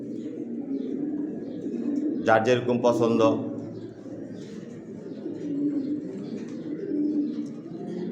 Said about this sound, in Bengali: অনেকে কবুতরের খামার করে